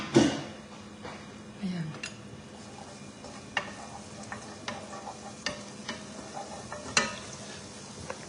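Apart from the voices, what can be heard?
garlic frying in hot oil in a pan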